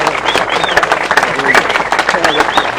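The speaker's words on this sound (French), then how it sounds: "Merci de saluer Guirec Soudet, de l'applaudir bien fort, s'il vous plaît." An outdoor crowd at a boat christening for sailor Guirec Soudée breaks into a dense patter of clapping, loud and close throughout.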